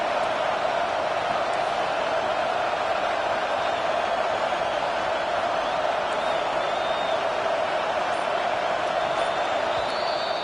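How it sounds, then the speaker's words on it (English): A football stadium crowd at an Ole Miss game sends up a steady, loud roar of cheering and noise, sustained and unbroken throughout. "this crowd is fired up. Listen to this noise here"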